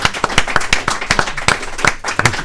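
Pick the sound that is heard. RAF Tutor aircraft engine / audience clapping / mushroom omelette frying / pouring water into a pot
audience clapping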